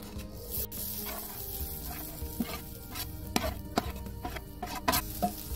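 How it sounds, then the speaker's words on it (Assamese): Grated coconut fries in a hot wok while being stirred, giving a steady low sizzle with repeated scraping clicks and taps close by, without any talk. "এয়া কেৰাহী গৰম হ'ল, নাৰিকলখিনি কেৰাহীত বাকি দিছোঁ"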